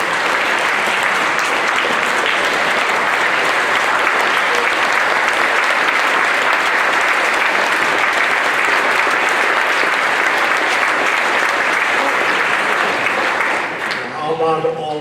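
An audience gives a standing ovation at a Memorial Day gathering, dense sustained clapping that fills the hall steadily for most of the stretch before tapering off near the end.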